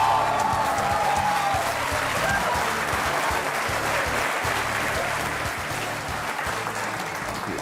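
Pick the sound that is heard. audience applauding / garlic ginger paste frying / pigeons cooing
audience applauding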